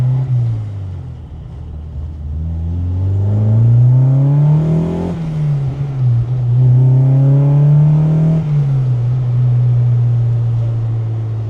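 A K-swapped Honda EK1 with individual throttle bodies revving, loud and close, the engine note climbing and falling through two long rev sweeps before settling back to a steady idle drone.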